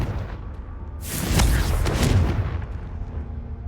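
The Confringo spell erupts in a Harry Potter video game as a single loud, booming blast that swells and then fades out over a couple of seconds.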